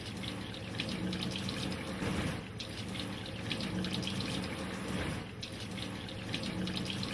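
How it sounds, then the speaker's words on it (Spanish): Steady running water from a surgical scrub sink tap pours continuously while fingertips and nails are brushed clean beneath the stream, a close, even rush with no voices. "se limpia el área subungueal de cada dedo bajo el chorro de agua"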